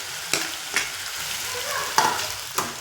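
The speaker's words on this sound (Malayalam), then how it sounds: "വെണ്ടയ്ക്കയും പച്ചമുളകും ഇട്ട് കൊടുക്കാം കേട്ടോ." Okra and green chillies stir-fried in a pan for a Kerala-style okra tamarind curry, a steady sizzle broken by a few sharp scrapes and clacks of the spoon against the pan.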